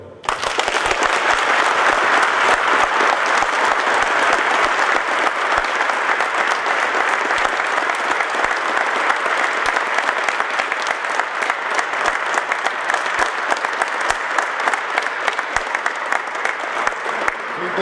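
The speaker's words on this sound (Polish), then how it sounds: "symbolicznie wesprzyjmy obywateli Ukrainy wielkimi oklaskami" A hall audience at an indoor municipal football championship in Sławatycze bursts into loud, sustained applause in support of Ukraine, dense steady clapping lasting throughout before tapering at the end.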